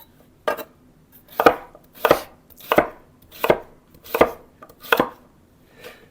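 A knife chops sweet potatoes on a cutting board in a home kitchen, six or seven sharp, evenly spaced cuts about half a second apart, close and clear with no talking.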